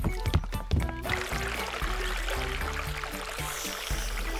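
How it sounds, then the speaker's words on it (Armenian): Natural spring water pours in a cartoon, a steady close stream running for several seconds after a few brief knocks at the start. "Հիմա բնական աղբյուրի ջուր կխմենք"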